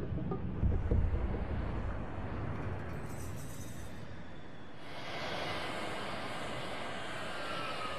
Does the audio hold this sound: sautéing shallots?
no